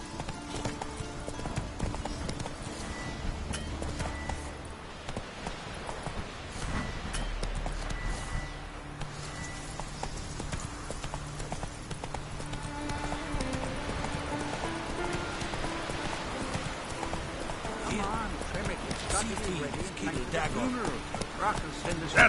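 Roach, Geralt's horse in The Witcher 3, gallops along with steady rhythmic hoofbeats under game music and ambience, while a voice talks intermittently over the ride.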